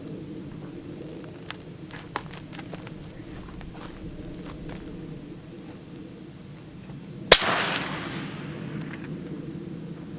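A single long-range rifle shot cracks sharply at a distance during a shooting challenge, followed by a short rolling echo, after several seconds of quiet outdoor ambience with light scattered ticks.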